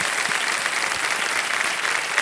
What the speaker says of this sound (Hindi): तालियां बज जाए एक बार फिर इनके लिए।